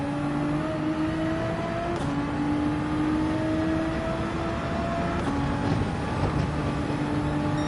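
Race car engine in Gran Turismo 7 at Daytona Road Course, a steady high droning whine rising in pitch through the gears, with brief dips at shifts around two and five seconds, loud and continuous with no talk.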